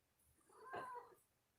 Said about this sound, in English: everybody's favorite black cat, Galaxy